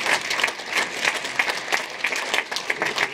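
An audience at the PIFFF 2022 film festival closing ceremony applauds the subtitling team, with steady, fairly close clapping and clear individual claps standing out in an even rhythm.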